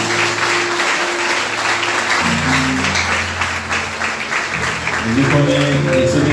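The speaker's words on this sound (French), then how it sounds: "je l'applaudis pour Allah pour ces deux morceaux" Steady, sustained applause from a crowd at a Haitian evangelical church, with music and voices carrying underneath throughout.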